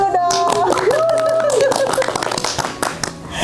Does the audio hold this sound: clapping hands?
yes